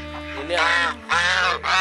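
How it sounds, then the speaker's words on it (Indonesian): Ducks at a countryside resort in Bogor give two loud, nasal quacking bursts close by, with a low steady hum underneath. "Bebek itu adalah hewan teritorial."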